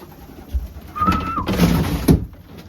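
Racing pigeons give a short, close coo with a brief rising whistle-like call, amid faint background rustling.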